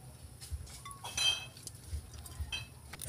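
A metal cooking pot being handled on a home stove before frying, with scattered clinks and knocks of metal and utensils, a louder clatter near the middle, close and fairly faint, no talk.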